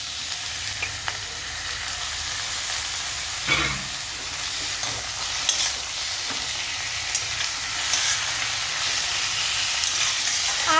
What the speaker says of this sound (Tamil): ஆட்டி இறைச்சி போட்டு இப்படி கொஞ்சம் கிண்டி விடணும்